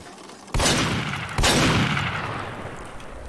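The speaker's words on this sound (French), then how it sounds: "Tire de fusil à pompe" Pump shotgun fired twice in a video game, two sharp, loud blasts about a second apart, each leaving a long booming decay.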